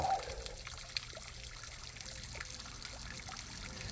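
Water from a downsized pump on a backyard waterfall trickles and splashes in a steady, quiet stream, with no voices over it.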